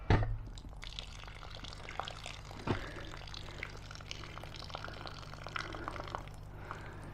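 Antifreeze draining from a classic Mini engine, a steady trickling pour of liquid into a container, close and fairly quiet, with a few small knocks and drips.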